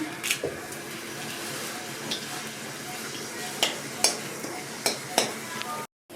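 Dried red chillies crackle and sizzle in hot oil in a wok, a steady frying hiss with a few sharp pops and spatters scattered through it, close and moderately loud.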